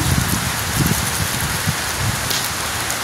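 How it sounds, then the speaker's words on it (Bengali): Heavy afternoon downpour pours in a dense, unbroken patter, loud and close, with no voices. "এই দুপুরবেলা থেকে মুষলধারে বৃষ্টি পড়ছে, বীভৎস বৃষ্টি"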